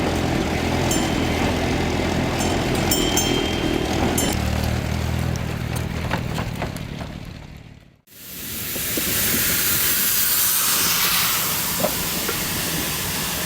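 A narrow gauge steam locomotive, double-headed, rumbles past in Africa with loud, continuous steam hissing and rhythmic chuffing, then the noise cuts briefly before another burst of roaring hiss.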